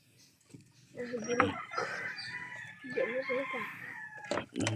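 A rooster crows nearby amid clucking chickens, with background chatter and noise.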